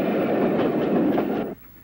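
Locomotive 35007 hauling the 16:47 departure to Bournemouth up the 1 in 74 gradient through Upwey, near Weymouth, in 1966-67: a short, loud, steady rumble and clatter that cuts off abruptly near the end.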